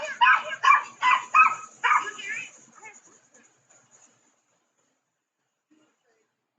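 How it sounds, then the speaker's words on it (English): Dogs bark in a rapid run of about five loud, close barks, then trail off into faint yips and silence. "we also see the dogs start barking"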